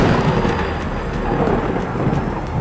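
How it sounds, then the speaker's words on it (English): Deep, loud rumbling thunder with heavy rain during a storm over the Catatumbo River in western Venezuela, a continuous roar filling the whole stretch with no voices. "Every night, thunder and lightning may be heard above water for a total of 10 hours each"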